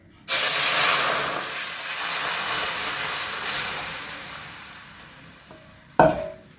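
A gram flour mixture hits hot oil with a sudden loud hiss and sizzle that slowly fades over several seconds, followed by a short clatter near the end.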